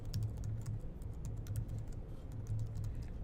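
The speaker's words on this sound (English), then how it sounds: "I could copy paste, but I'm just going to type it in." Programming code being typed on a computer keyboard, a steady patter of quiet clicking keystrokes in short bursts, close by with no talking.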